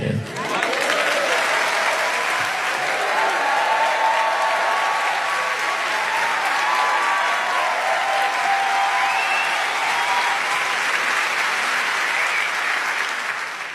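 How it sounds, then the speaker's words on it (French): A comedy audience applauds a stand-up comedian in a long, dense, steady burst of clapping that fills the room, loud and sustained with no break. "C'est la première fois qu'on m'applaudit autant parce que j'ai fait 3 mètres."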